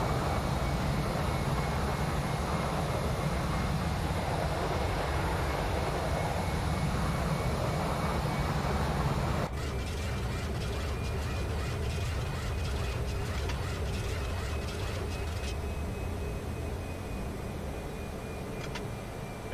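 Landing gear extends on an IxEG 737 Classic in X-Plane 12, a mechanical whir and clunk that cuts into a lower, rattling airflow rumble midway, all over a constant cockpit engine drone.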